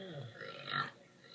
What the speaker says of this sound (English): has non-stop burps right now